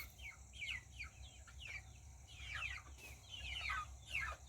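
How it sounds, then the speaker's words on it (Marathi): Around twenty-two hens settling for the evening in a thatched shelter, clucking in frequent overlapping bursts over a constant low hum, moderately distant and soft. "हे बावीस कोंबड्या इकडेच बसतात झापामध्ये"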